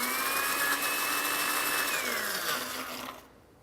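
A kitchen blender runs steadily at a loud, constant whine while chopping the honey, vinegar and oregano for an oregano vinaigrette, then slows and cuts off near the end.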